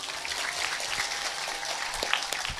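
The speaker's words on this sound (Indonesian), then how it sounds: "Tepuk tangan dulu dong." Audience clapping during a religious lecture in Bungur Gede village, a steady broadband patter of many hands lasting under three seconds at moderate, somewhat distant level.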